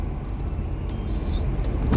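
Cars moving along a busy road, a steady near traffic rumble with a brief rising swell of a passing vehicle near the end.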